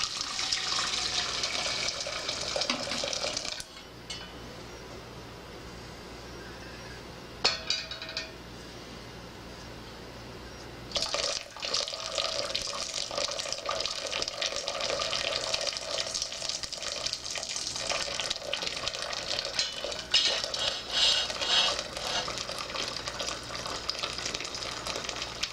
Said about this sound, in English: take the hot water and pour it into the large pot